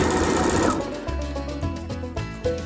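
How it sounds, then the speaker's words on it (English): A sewing machine runs a half-inch running seam on a fabric mask, whirring loudly and steadily up close, then easing into a slower, rhythmic stitching pulse. "Now I'm going to use my sewing machine because it just makes everything go faster."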